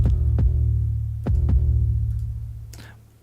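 A Subcraft 808 bass line plays alone: deep sliding sub-bass notes struck by sharp kick-like attacks in an uneven sequenced rhythm, loud and close, with a brief brighter noise near the end as it fades.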